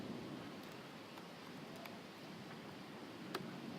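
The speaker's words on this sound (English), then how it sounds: "sorry, it's raining here" Steady rain falls outdoors as a continuous, soft hiss with scattered ticking drops and one sharper tap near the end, heard fairly faintly throughout with no voices.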